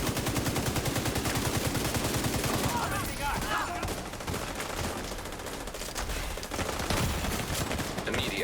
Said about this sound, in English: I'll just blindly fire at everyone